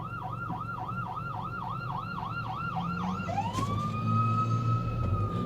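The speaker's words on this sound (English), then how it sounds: "there's an ambulance. Or a truck or something." Ambulance siren passing nearby, a fast repeating yelp that shifts into a long steady wail as the vehicle goes by, loud over low street rumble.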